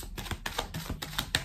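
A deck of 77 tarot cards being cut by hand, a quick close run of papery slaps and shuffling flicks in rapid succession.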